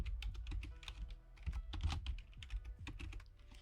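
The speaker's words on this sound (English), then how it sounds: "I have a really noisy keyboard." Rapid clacking keystrokes on a noisy computer keyboard, close and crisp, irregular bursts of typing with no talk.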